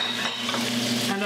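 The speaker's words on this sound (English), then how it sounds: "I'm gonna put my onions and my fennel in the same pan" Onions and fennel frying together in a pan for a chicken fricassee, making a dense, steady close sizzle with faint utensil contact and a slight hum beneath it.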